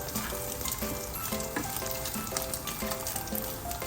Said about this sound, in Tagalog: Fry natin mabuti.